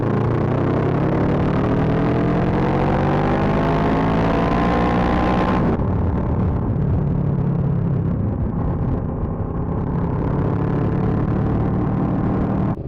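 A motorcycle engine under throttle, either a parallel twin or a V-twin, pulls hard and loud through rising harmonic sweeps, then abruptly drops to a lower, rougher rumble for the remaining seconds, close and continuous.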